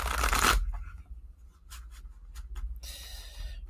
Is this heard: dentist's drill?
no